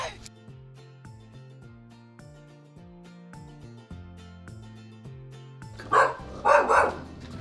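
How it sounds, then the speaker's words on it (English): Soft melodic music plays, then a big dog barks three times, loud and close, in quick succession near the end. "It sounds like a big dog."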